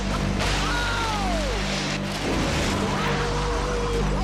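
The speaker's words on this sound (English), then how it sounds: "That's the sound of demolition." Heavy machinery demolishes a house, rumbling steadily while loud crashes and cracking debris break out repeatedly, up close, with a dense roar throughout.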